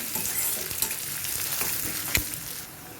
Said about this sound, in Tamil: நல்லா ப்ரௌன் கலர் இது பொன்னிறம் வர வரைக்கும் நல்லா இது வர அப்படியே வதக்கலாம்